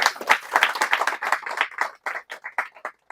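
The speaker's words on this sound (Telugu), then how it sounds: "గట్టిగా చప్పట్లు కొట్టాలి" A small indoor audience claps loudly in a brisk burst of applause that thins into a few scattered claps.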